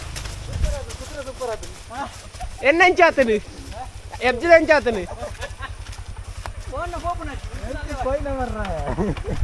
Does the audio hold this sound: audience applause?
no